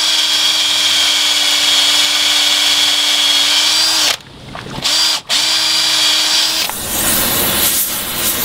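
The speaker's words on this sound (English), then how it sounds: "Now what I'm going to do is drill into this bushing here." A power drill whines steadily while boring into a boat's rudder post bushing, stops briefly twice, then resumes with a grinding, chattering tone.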